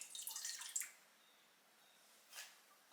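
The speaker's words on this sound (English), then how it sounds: "We are going to measure out 3/4 of a cup of whole milk, and I'm going to pour that into" Faint liquid splashing and trickling as whole milk is poured into a small saucepan, a short pour with small drips at the start, then quiet, followed by another brief splash.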